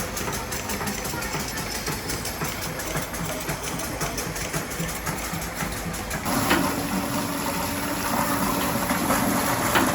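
A steam engine runs at Papplewick pumping station with a continuous mechanical chugging and hum, steady and fairly close, its tone shifting slightly partway through, under spoken narration.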